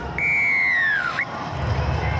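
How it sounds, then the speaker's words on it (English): A referee's whistle at the kickoff of a Super Rugby Pacific match between Moana Pasifika and the Chiefs at AAMI Park in Melbourne, one long clear blast that slides slightly downward and ends with a short chirp, over steady crowd noise. "The whistle is blown by Angus Gardner and Damian McKenzie."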